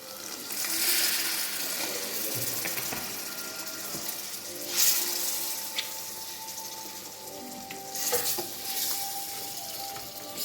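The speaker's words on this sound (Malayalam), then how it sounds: "ഇനി കുറച്ച് വിനീഗർ ഒഴിക്കാം" Vinegar poured into a bowl of mango pickle, giving a steady, moderately loud splashing pour that runs throughout with a few brief clinks and louder bursts near the middle and end, no talking.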